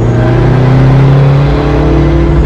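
A remapped Toyota Hilux 6x6 engine revs hard in second gear, holding a loud, steady drone with bouncing limiter pulses, near and continuous with no talk.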